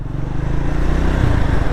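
A new Triumph Scrambler 350 X motorcycle riding with a steady, close engine drone and low harmonic rumble, holding even loudness throughout with wind noise and no speech.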